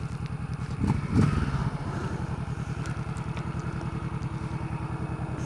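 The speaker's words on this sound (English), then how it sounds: "It's a Honda Shadow, so it's kind of an old man cruiser style bike." A Honda Shadow cruiser motorcycle engine pulses steadily while riding, a low even throb with a brief louder swell early on, heard up close with no talking.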